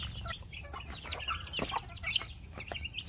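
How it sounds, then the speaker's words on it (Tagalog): Chickens being fed on a small farm cluck and peep in short scattered calls, quiet and close, with a few higher chirps over a low steady background. "nakapagpatuka na tayo ng ating mga manok"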